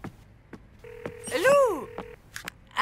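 A landline telephone being dialed, a short run of electronic touch-tone beeps with a brief ringback-like tone, close and clear, with a few soft background noises and no talking.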